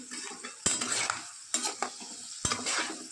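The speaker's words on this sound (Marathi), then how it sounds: "हे आहेत चिरमुरे कोण मुरमुरे म्हणते कोण लाह्या म्हणते आम्ही त्यांना चिरमुरे बोलतो आपलं भाजत चालू" Puffed rice roasts in a pan for chivda, with a steady dry rustling crackle and three sharp scraping stirs of a spoon against the pan, close and clear with no talking.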